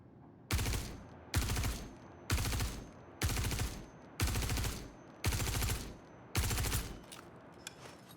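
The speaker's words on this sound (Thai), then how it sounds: "ก่อนที่ทำการแต่งปืนมันก็จะยิงออกมาแบบนี้ครับ" The unmodified P4 gun in the video game Star Citizen fires seven loud, close bursts of rapid automatic fire, each lasting under a second, with short regular gaps between them.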